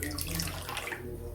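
Tap water runs steadily into a sink, taken up to wipe the face, a continuous close splashing flow that thins out toward the end, with no talk.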